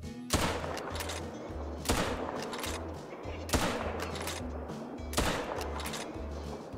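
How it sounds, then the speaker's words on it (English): Gunfire in the hunting game Call of the Wild, heard as four sharp, loud shots spaced roughly a second and a half apart, each with a booming tail, over a low droning background. "it is not easy to even know if I hit the shot, because these iron sights are so blocky on the 223"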